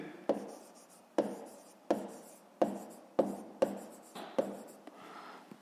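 Pen writing out a fifth-grade math exercise, about eight quick scratchy strokes in an even rhythm, each a short sharp tap trailing into a brief scrape, close and quiet with no voices.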